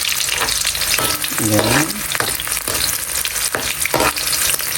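Onions sauté in hot oil, a loud, dense sizzle with crackle and stirring scrapes throughout, plus a brief spoken word partway through.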